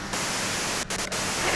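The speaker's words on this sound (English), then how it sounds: "you can do it through the white noise" Loud, steady radio static hisses from the Disco Elysium video game, with a couple of brief dropouts partway through and no voices.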